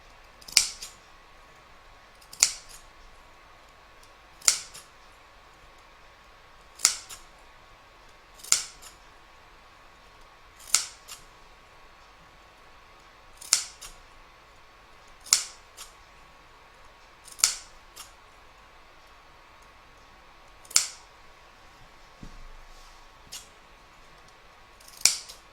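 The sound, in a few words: scissors clipping fabric corners of a bag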